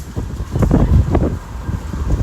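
Strong gusts from the gust front of an approaching thunderstorm squall line in New York City, roaring in loud, uneven surges and buffeting the microphone.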